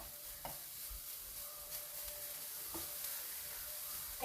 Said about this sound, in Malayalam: ഇനി നന്നായി ഒന്ന് ഇളക്കി കൊടുക്കണം.